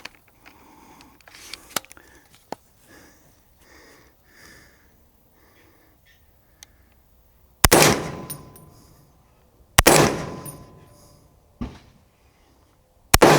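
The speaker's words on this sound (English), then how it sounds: "That is 3 rounds without the suppressor." Three loud, sharp rifle shots without a suppressor, fired from a rifle with a muzzle brake, each followed by a brief roaring echo, after a stretch of quiet handling noises.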